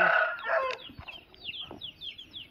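Chickens in a newly built chicken shed on a farm cluck busily and close, with a rooster crowing among them and scattered higher chirps, and no one speaking.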